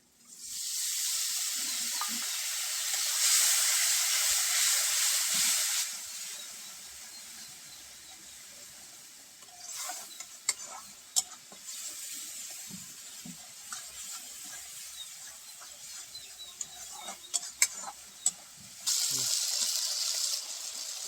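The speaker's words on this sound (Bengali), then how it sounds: "অল্প একটু জল দিয়ে দেবো।" Water poured into spice paste frying in a pan for a green banana and fish kofta curry sets off a loud hiss that fades into soft crackles and pops, then surges again at the end.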